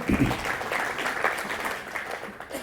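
An audience at a Christian retreat claps together, a sustained patter of hands that starts strong and thins slightly toward the end, with some voices mixed in.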